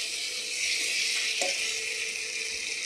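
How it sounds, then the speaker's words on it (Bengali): Fish oil sizzling steadily in a hot pan, a continuous bright frying hiss with a brief stir or clink midway, close and alone without talk. "এবার ভালো মতন এটাকে ভেজে নিতে হবে।"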